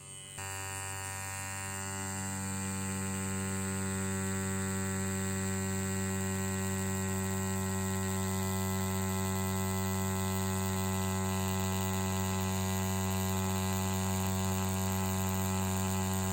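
An EZ P3 Pro Touch tattoo machine runs a 9-round liner with a steady electric hum, alone and constant for the whole stretch.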